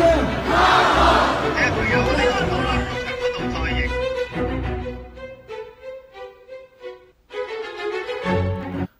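Large crowd of Hong Kong protesters at a mass rally, roaring and chanting together loudly, with a musical tone threading through as the din swells and fades in waves.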